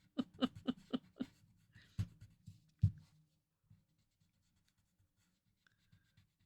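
Graphite pencil shading on paper for a Zentangle drawing: a quick run of close, soft scratchy strokes, then a few sharper isolated scrapes, fading to near silence with faint occasional marks.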